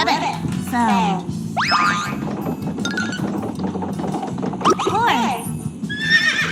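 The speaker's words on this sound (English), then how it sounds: "A horse makes a neigh sound." A horse whinnies several times in loud, shrill bursts that rise and fall, with faint hoof clops and a speaking voice between the calls.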